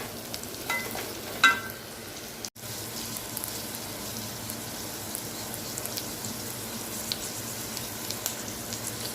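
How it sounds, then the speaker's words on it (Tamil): Sprouted chickpeas for a sundal sizzle and crackle in hot oil in a pan, a close, steady frying hiss that drops out for a moment, then carries on evenly. "இது கொஞ்சம் எண்ணெயில் கொஞ்சம் பொரிச்சு எடுக்கிறேன்"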